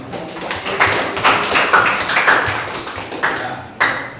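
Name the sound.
classroom applause for student Bimo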